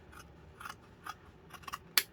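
Scissors snip fabric for baby clothes, a few soft, quiet cuts spaced through the moment, ending in one sharper, louder close of the blades, with no voices.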